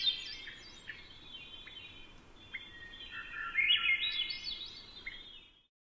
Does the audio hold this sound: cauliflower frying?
no